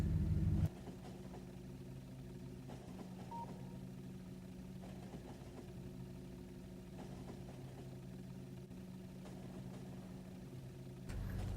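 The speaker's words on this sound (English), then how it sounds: "Loud truck kind of going by." A low, steady engine rumble from a heavy truck outside, droning continuously at moderate loudness with no voices.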